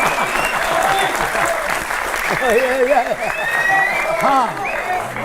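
Applause rings out from a crowd gathered at a public debate on the Modi government, steady clapping that runs the full length alongside a man's overlapping speech and a brief spoken word.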